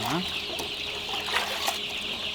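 Hundreds of 17- to 20-day-old chicks fill a poultry farm in Andijan, their high peeping merging into a constant, dense chirping chorus, with a brief voice near the start.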